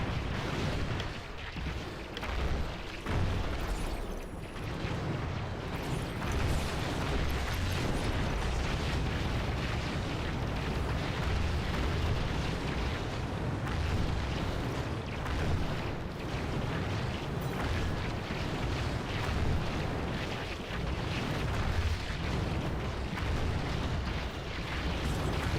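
Weapons fire and explosions in the real-time strategy game Beyond All Reason, with expensive heavy units and a minigun: a dense, unbroken barrage of booms, bursts and rumbling blasts fills the whole stretch at constant high intensity.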